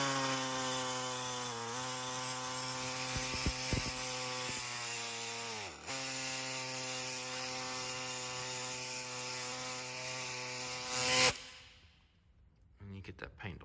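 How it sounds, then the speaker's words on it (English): An air hacksaw with a dull blade scrapes paint off a car's K frame, a loud, steady, buzzing reciprocating rattle that runs without a break, then cuts off abruptly near the end, leaving faint clicks. "I use is just my air hacksaw with a dull blade, and then you can kind of get right into the corner"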